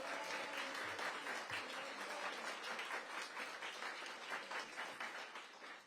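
An outdoor crowd claps at a ribbon cutting for a senior apartment building, a continuous fairly loud round of applause with individual claps audible, tapering slightly toward the end.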